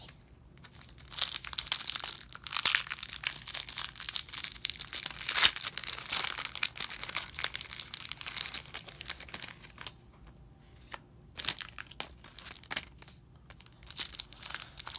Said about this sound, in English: we're going to open all 3 packs